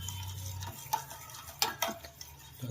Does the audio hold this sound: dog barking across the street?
no